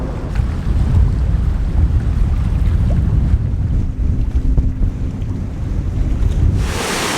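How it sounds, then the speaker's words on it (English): Loud wind buffeting the microphone atop a dam over churning, sloshing water, a constant low rumble throughout with no talking. "It's quite windy up here, water's sloshing around."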